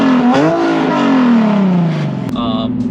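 Infiniti G37S sports coupe with a muffler delete and long-tube intakes revs hard, the engine pitch climbing then sliding back down, ending in a rougher lower drone; loud and close.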